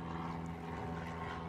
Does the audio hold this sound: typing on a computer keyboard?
no